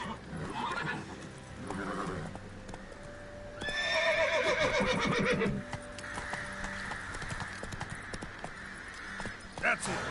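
Roach the horse from Witcher 3 galloping with rapid clip-clop hoofbeats and a loud whinny in the middle, game music and a voice heard alongside.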